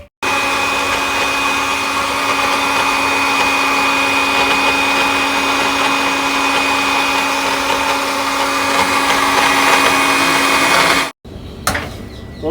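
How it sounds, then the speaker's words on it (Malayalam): A kitchen mixer grinder runs continuously, grinding green chilli and green masala into a paste, a loud steady motor whine with a constant hum that cuts off abruptly near the end before a brief restart. "ഇതെല്ലാം പാടി ഇട്ടിട്ട് നമ്മൾ മിക്സിയിലിട്ടിട്ട് നന്നാക്കി അടിച്ചിട്ട് പേസ്റ്റ് ആയ ശേഷം"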